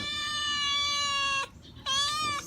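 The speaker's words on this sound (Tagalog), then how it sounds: "Stray cat mo yun." A stray cat gives a long, loud, drawn-out meow up close, breaks off briefly, then starts a second sustained meow; no one talks.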